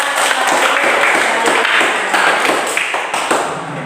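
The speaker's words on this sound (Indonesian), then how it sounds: "tepuk tangan dulu untuk semuanya" A classroom group claps hands together in dense, continuous applause, loud and close, with faint voices mixed in.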